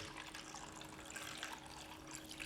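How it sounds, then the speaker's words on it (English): Hot water runs and splashes into a container holding a computer's plastic keys weighed down to stop them floating, a soft continuous trickling wash at low level with no talking. "we're gonna add some hot water to this"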